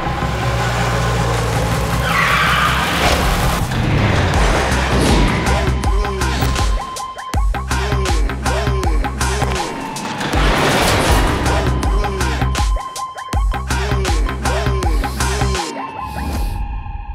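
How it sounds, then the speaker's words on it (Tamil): A car engine revs and drives off loudly, with repeated accelerating bursts and tire sounds; faint speech may be present in the mix. "ராஜேந்தர் வண்டி எடுங்க"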